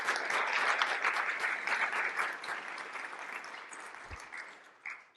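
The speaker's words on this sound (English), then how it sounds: "Let's give them a round of applause." An audience at an art talk gives a round of applause, dense steady clapping that gradually thins and fades over a few seconds.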